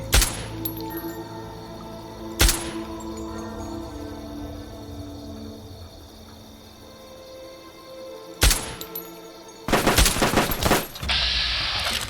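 Bursts of light machine gun fire in a Fallout-style shooter game, with sharp loud volleys near the start, a single crack, then dense rapid fire near the end against a steady ambient hum.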